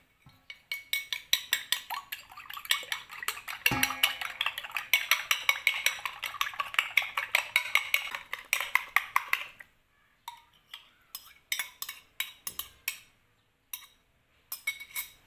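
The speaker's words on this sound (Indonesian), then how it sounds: "kocok lepas telur" Eggs whisked in a bowl for an Indonesian dish, a fast run of clicking utensil strikes against the bowl for about ten seconds, then slower scattered taps and clinks.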